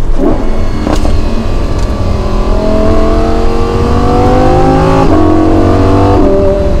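A Lamborghini Huracan EVO engine revving hard and climbing through gears, loud and close, with pitch rising then dropping at each shift.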